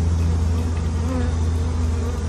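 About 1,500 honey bees shut in a jar for a varroa mite count buzz in a loud, steady drone with a low hum, close and unbroken, no voices.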